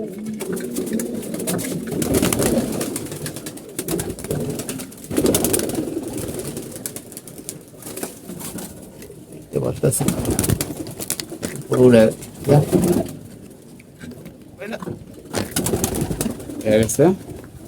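Pigeons coo in a domestic loft, low repeated calls running through most of the stretch with occasional wing flutters, while people talk nearby.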